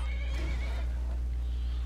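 A horse neighs and whinnies in Skyrim (The Elder Scrolls V), a loud, strained call lasting about a second over steady low game hum, then fading into ambient noise with hoof clatter.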